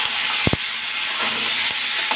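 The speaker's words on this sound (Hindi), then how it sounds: "अब इसमें हम चिकन डालेंगे और 5 मिनट हम इस चिकन को भी फ्राई" Chicken frying in a pan in a home kitchen gives a steady, close sizzle and hiss, broken by a couple of brief knocks or clicks.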